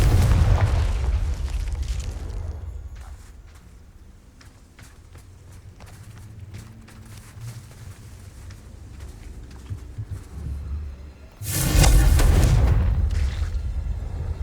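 A Confringo fire-blast spell in the game Hogwarts Legacy lands with a loud, broadband explosive boom, bursting in abruptly near the end and rumbling on; earlier, quieter thuds and footsteps are heard.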